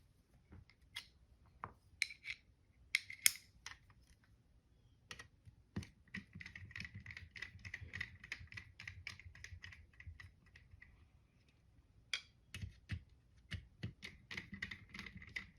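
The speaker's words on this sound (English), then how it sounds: "Now we're going to need a Phillips head screwdriver for these two screws." Phillips head screwdriver, size 0, backing two screws out of an N64 GoldenEye 007 cartridge, with a run of small, close, sharp clicks and scrapes that are irregular at first and then turn into steadier rapid ticking, with no voices.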